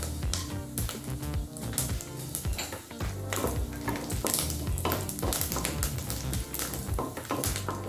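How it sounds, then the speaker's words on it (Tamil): Grated coconut roasts in a pan for a moong dal payasam, with continuous close stirring scrapes and rustling over a light sizzle. "தேங்காயை லேசாக கலர் மாறுற வரைக்கும் வறுத்துக்கலாங்க."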